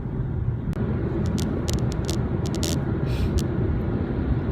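A car drives along with a steady low engine rumble and road noise filling the cabin, close and constant, broken by a few brief clicks and taps.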